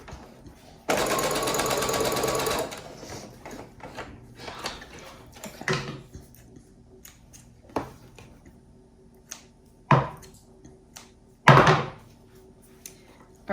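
A home sewing machine runs in one short, steady burst while stitching a dart in fabric, followed by scattered clicks and knocks of handling in a quiet room.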